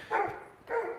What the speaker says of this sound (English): That's a shepherd over there barking at me.